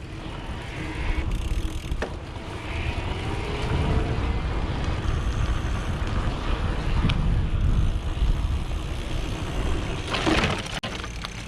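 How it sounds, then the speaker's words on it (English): Specialized Turbo Como 5.0 e-bike with its motor at the highest assist level, a steady whirring hum under strong road and wind rumble while riding, with a few faint clicks and a brief rattle near the end. "I'm always riding in the highest level of assist, and these are the default settings. And I do that purposely so you can hear and see the motor at its fullest"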